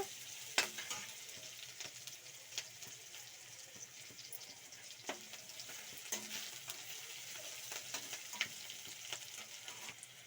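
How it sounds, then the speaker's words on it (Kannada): Onions frying in a pan for mushroom chilli, with a faint, continuous sizzle broken by light, scattered clicks of stirring. "ನೋಡಿ ಈರುಳ್ಳಿ ಈ ರೀತಿ ಫ್ರೈ ಆಗಬೇಕು"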